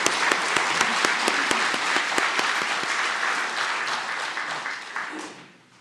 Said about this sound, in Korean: 다시 한번 우리 더 뜨거운 박수로